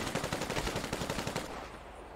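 Rapid bursts of automatic gunfire from a video game, a steady run of close, loud shots that thins out near the end.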